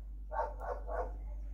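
A dog inside a house gives three quick barks in a row, moderately near, against a low steady background hum.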